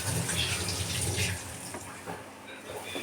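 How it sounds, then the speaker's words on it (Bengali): Hot water poured from close by over puti fish cooking in a pan gives a soft, gushing splash, fairly faint and lasting a few seconds. "গরম জলটা এর উপর দিয়ে দেবো।"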